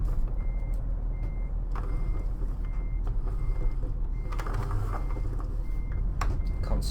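Simulated truck reversing alarm from a Scania R in Euro Truck Simulator 2, beeping steadily in evenly spaced pulses over a constant low engine rumble, with no talk.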